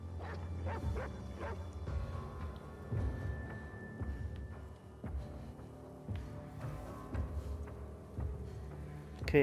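A dog in The Last of Us Part II barks and yips in short bursts, some whimpering mixed in, over low game ambience; the dog sounds moderately close.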